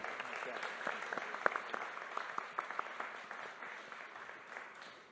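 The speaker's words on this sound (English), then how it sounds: "let's give a very big round of applause to the panel first" Applause from a conference audience for a plenary panel on efficiency, agility and resiliency, a steady moderate clatter of many hands lasting about five seconds with a few sharper individual claps, fading slightly toward the end.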